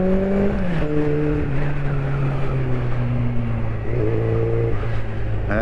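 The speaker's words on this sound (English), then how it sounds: "I might just raise the idle ever so slightly as well" A Honda CB400 Super Four motorcycle engine idles close by as the idle is raised, its steady tone stepping and sliding slightly in pitch while holding a loud, smooth hum throughout.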